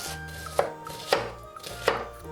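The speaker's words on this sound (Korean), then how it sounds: "양파 1개를 깍둑 썰기 해주세요." A knife dices an onion on a cutting board, with three crisp chops spaced evenly about half a second apart, sounding close and with no one talking.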